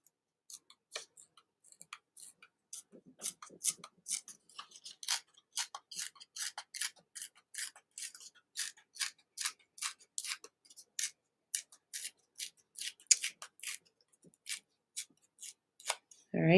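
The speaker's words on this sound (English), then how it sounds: "and we'll tear down this side." Cardstock is torn slowly by hand, giving a long run of small, crisp crackles and snaps, quiet and close, ending in a brief louder rustle.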